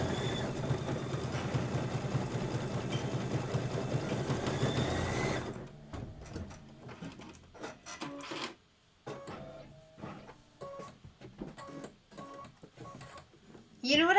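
Sewing machine stitching quilt pieces, a fast, steady mechanical whir for several seconds, then stops; afterwards someone talks over quiet handling noises.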